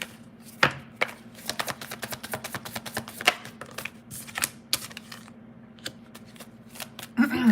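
Tarot cards shuffled by hand, a quick run of crisp riffling snaps and taps at close range, steady and fairly soft, with a faint low hum beneath and a brief rustle at the end.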